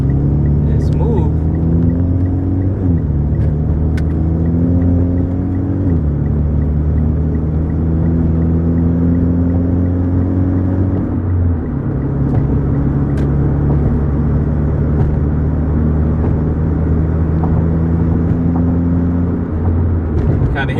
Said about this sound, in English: Kind of hear that turbo spool